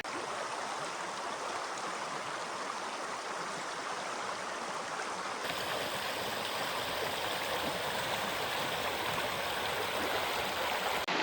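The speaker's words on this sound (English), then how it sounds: "I've come down to the river." Steady rush of a river flowing through the remote Forest of Bowland fells, a continuous broadband wash of water that grows slightly louder and fuller partway through, with no voices.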